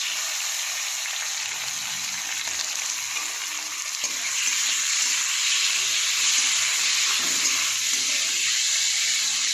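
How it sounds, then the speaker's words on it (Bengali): Prawns hit a hot pan with onions and green chillies, setting off a bright hissing sizzle that swells louder midway and keeps crackling steadily close by without speech. "চিংড়ি মাছটা একটু ভাজা ভাজা করে নেবো"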